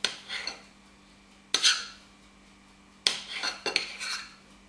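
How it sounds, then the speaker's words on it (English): A knife cuts through fresh low-fat mozzarella on a board for homemade pizza, giving three separate sharp clinks and taps, each with a brief scraping tail, close and clear with nothing else heard. "we just want some slices of this mozzarella"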